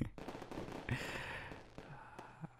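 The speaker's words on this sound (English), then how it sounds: "look at that firework over there" Fireworks bursting outdoors on New Year's, a series of distant pops and crackles with a broad hissing burst partway through, quiet and layered over soft ambient noise.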